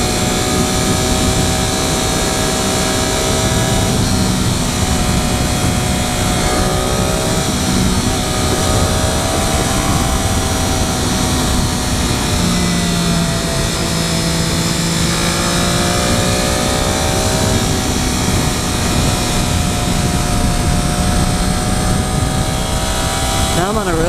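A 2013 Triumph Daytona 675R motorcycle being ridden on a road, its engine droning steadily with shifting pitch under constant loud wind rush, and a rider talking over it.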